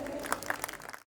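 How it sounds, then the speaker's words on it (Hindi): An audience at a stage event claps in a short, faint patter of scattered hand claps that cuts off abruptly after about a second. "एक बार जोरदार तालियां हो जाए।"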